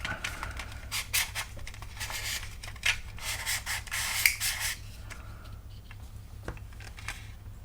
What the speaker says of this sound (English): let's just do this little bit of sanding here